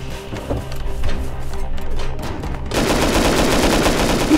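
Rapid gunfire from the survival video game Rust during a base raid, a dense crackle of shots that turns into a loud, sustained burst of fire filling the second half, with no talking.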